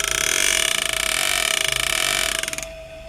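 A card held against a spinning drive shaft buzzes in a rapid, close flutter with a steady mechanical whine beneath, then cuts off near the end.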